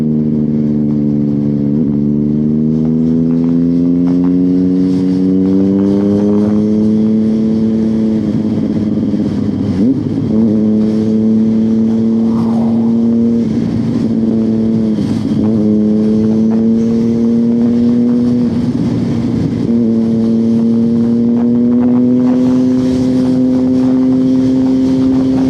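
Naked motorcycle engine heard from the rider's seat, a loud continuous drone whose pitch rises and falls through repeated gear changes as the bike accelerates and settles, with wind noise and no talking.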